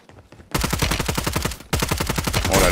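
Call of Duty video game gunfire: two loud, close bursts of rapid automatic fire, each a fast even stutter of shots separated by a brief pause.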